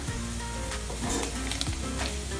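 Tantuni meat sizzles steadily in plenty of oil with chili flakes and salt while being stirred, with soft scraping strokes over a continuous close frying hiss.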